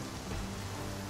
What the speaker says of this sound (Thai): ฝนตกแล้วครับ